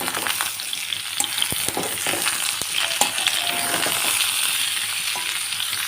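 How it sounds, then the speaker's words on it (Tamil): Potatoes and a large-cut onion frying together in a pan for a Bengali-style poppy-seed potato fry, with loud, dense, steady sizzling and occasional stirring taps close by. "ஒரு வெங்காயம் பெரிய சைஸாக கட் பண்ணி வச்சுருக்கேன், இந்த சைஸில். அது கூடவே சேர்த்து"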